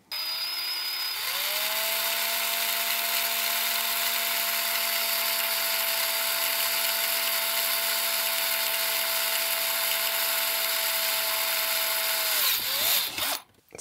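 A power drill boring a 6 mm hole in the case of an Atari 65XE computer: the motor whines up quickly, holds a steady, loud, close tone for about eleven seconds, then winds down with a short rattle.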